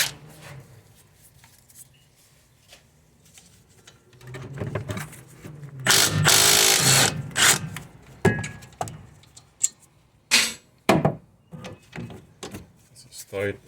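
Impact wrench or power tool loosening a car brake caliper during wheel bearing replacement, a short loud rattling burst followed by clanks and clicks of parts, with someone speaking around it.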